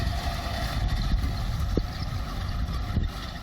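A tractor pulling a hay windrower across a field to gather already-cut hay gives off a steady, fairly faint engine drone with no change in pace.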